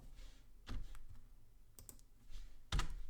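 A few scattered, fairly quiet key presses on a computer keyboard with a firmer final tap like an Enter key, heard alone in a quiet room while working in an Excel spreadsheet.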